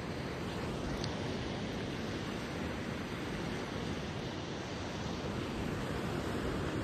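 Sea surf at Velneshwar beach on the Konkan coast rolls in a steady, loud wash of broadband noise with wind across the microphone and no clear individual wave breaks.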